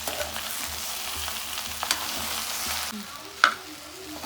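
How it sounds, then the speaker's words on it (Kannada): Chopped okra fries in oil, giving a steady, close sizzle with occasional stirring scrapes and a brief sharp clink of a utensil. "ಬೆಂಡೆಕಾಯಿಯನ್ನು ತೊಳೆದು ಚೆನ್ನಾಗಿ ಕಟ್ ಮಾಡಿ ಹೀಗೆ ಎಣ್ಣೆಯಲ್ಲಿ ಹುರ್ಕೊಬೇಕು"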